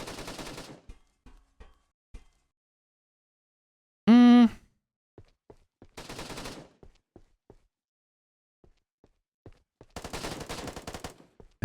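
AK-47 fire in the tactical shooter game Task Force, several short bursts of rapid shots separated by quiet gaps, plus one loud sharp tonal burst in the middle.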